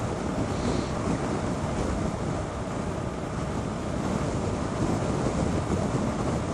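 Wind roars and buffets against the microphone while riding a bike, a loud, steady rumbling wash of noise with no talk over it.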